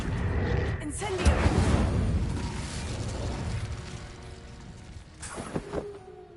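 Incendio fire spell cast in Hogwarts Legacy, a rushing burst of flame swelling and fading over several seconds, a brief crackling flare near the end, with a voice talking.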